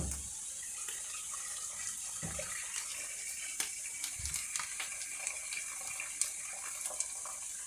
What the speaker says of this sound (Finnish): kaadetaan siihen litra kuumaa vettä